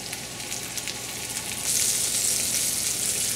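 Mahi-mahi fish frying in hot oil for sweet and sour fish, a steady close sizzle that grows louder and denser partway through, with no talking.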